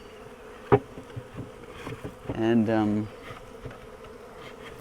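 A honeybee swarm buzzes softly in the background, with a louder, closer buzz passing briefly partway through and a single short spoken word.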